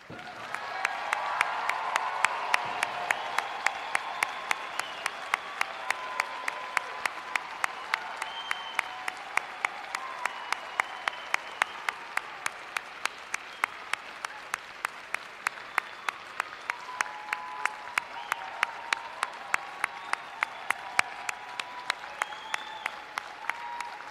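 A large audience at a fall 2022 commencement ceremony applauds the new graduates in a steady, sustained round of clapping that fills the hall for the whole stretch, fairly even in loudness, with no talk over it.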